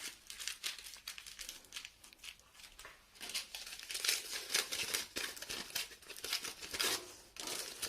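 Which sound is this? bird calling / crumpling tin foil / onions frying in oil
crumpling tin foil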